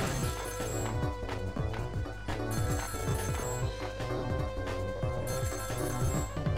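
A telephone rings repeatedly in the puzzle adventure game Ghost Trick, with steady bell trills over continuous game music at a constant level.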